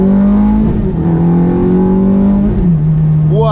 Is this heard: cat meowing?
no